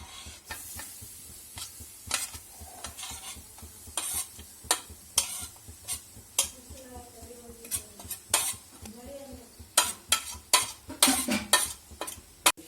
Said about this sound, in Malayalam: ഒരു തേങ്ങ നമ്മൾ നന്നായിട്ട് ചിരവി എടുത്തിട്ടുണ്ട് അത് നമുക്ക് വറുത്തെടുക്കാം